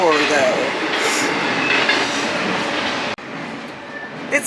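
A train rolls along railroad tracks beside the Erie Canal at Amsterdam, New York, a loud continuous rumble and clatter of wheels close by, with an abrupt cut partway through.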